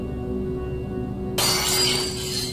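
A sudden loud burst of glass shattering in the sci-fi horror video game SOMA, cutting in over a steady low ambient hum and then fading into a bright, lingering crash.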